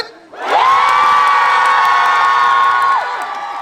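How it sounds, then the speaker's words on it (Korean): Women in a crowd at an outdoor concert stage let out a loud, sustained collective cheer and high-pitched shout lasting about two and a half seconds, then fading. "자, 여성분들부터 한번 함성을 들어볼게요."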